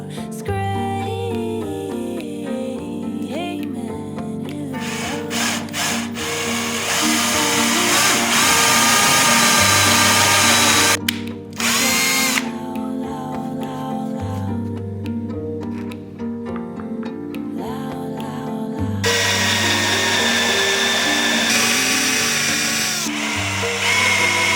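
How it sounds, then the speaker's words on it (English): A power drill bores depth-marked holes in a workshop, whining in sustained bursts with brief pauses between passes, loud and close, with no talk. "I want to avoid to drill through."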